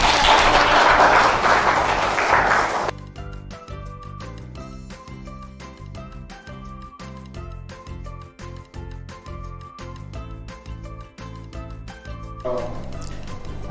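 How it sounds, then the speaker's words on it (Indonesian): Applause from an assembled group at a school event in Indonesia, a dense burst of clapping for about three seconds that then gives way to music, with a short return of clapping near the end. "Tepuk tangan untuk kita semua."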